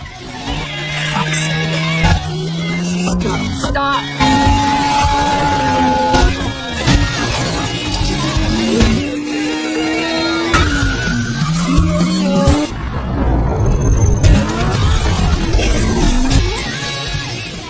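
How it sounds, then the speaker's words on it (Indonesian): A car at high speed crashes: tires squeal and skid repeatedly over a roaring engine, with sharp rising pitches and abrupt bursts suggesting impacts, loud and chaotic throughout. "Mobil yang ia kendarai pun menabrak sesuatu dan mengalami kecelakaan hebat."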